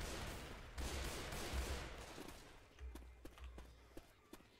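Rapid bursts of video game gunfire crackle in a dense, loud volley, then give way to scattered sharp single shots with a low rumble beneath.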